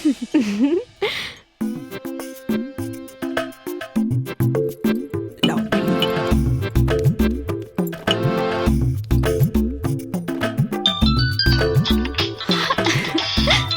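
A phone ringtone plays a bright, repeating melody of chiming notes, steady and loud, building in layers over about fourteen seconds with no talking.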